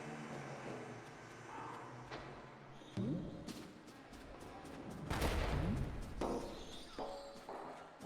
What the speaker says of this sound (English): Here you have to pull these things down to trigger the bombs ahead of you.